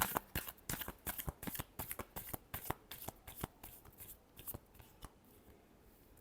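Tarot cards being shuffled in a rapid run of crisp riffling slaps, close and steady at first, then thinning and softening toward the end, with no talking.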